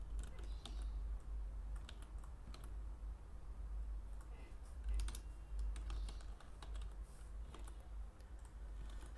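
Code being typed on a computer keyboard: a quick, irregular patter of soft, close key clicks running steadily throughout over a low hum, no voices.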